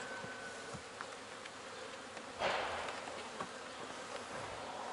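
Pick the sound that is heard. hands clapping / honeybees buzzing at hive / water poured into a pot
honeybees buzzing at hive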